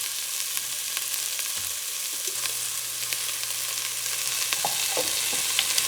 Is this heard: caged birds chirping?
no